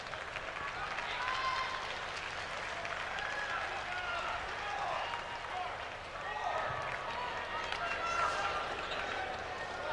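Crowd applause at a professional tennis tiebreak between Cedric Pioline and Gustavo Kuerten, a steady wash of clapping that swells and fades across the stadium, with murmuring and commentary voices running under it.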